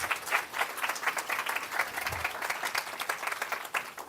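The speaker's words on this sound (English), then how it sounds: "Round of applause for our speakers." An audience at a conference on the UN Summit of the Future applauds its speakers, with steady, moderately faint clapping from many hands in a hall throughout.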